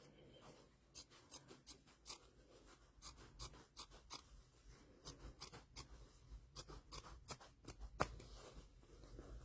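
Scissors snip open a stitched channel in a quilt block, a run of close, quick crisp cuts and rustling fabric at steady rhythm, fairly quiet with no talk.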